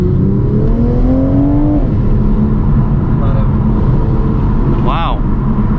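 A white 2020 Toyota Supra accelerating at half throttle, its engine note rising steadily in pitch before easing off, loud and close with road and cabin rumble throughout, and people talking over it.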